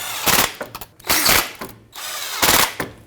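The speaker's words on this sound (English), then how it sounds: "I'm just going to take a socket and ratchet, make sure all these are nice and snug now" A socket and ratchet snugging bolts on the transfer case motor of a 1998–2011 Ford Ranger, three bursts of rapid metallic clicking close up, separated by brief pauses.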